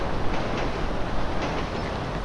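A train in GTA 5 rumbles past close by, a steady, loud roar of rolling wheels and rail noise with faint clicking, continuous throughout and alone with no talk.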